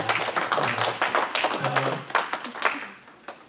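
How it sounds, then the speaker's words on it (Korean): A church congregation claps to welcome a visiting family during a service, a dense patter of hand claps lasting a few seconds and thinning out toward the end, with a voice speaking faintly underneath. "박수로 환영합니다"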